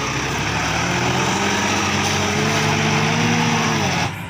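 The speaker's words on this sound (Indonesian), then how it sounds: "Wadidaw, di sini ada mobil traktor pembersih traktor sawah." A toy rice-field tractor's small motor whirs in a steady, loud, high-pitched buzz with a faint rising tone, running close up before cutting off near the end.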